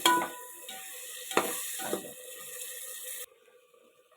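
Tomatoes hit a hot pan for vegetable biryani with a hiss and a couple of sharp stirring clatters, then the frying settles into a softer sizzle that cuts off near the end.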